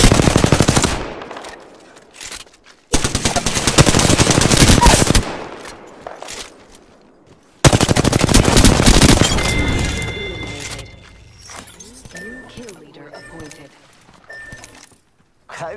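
Loud automatic gunfire in the Apex Legends video game, playing Octane: several long bursts of rapid shots separated by short gaps, followed by softer metallic clinks and game effect tones.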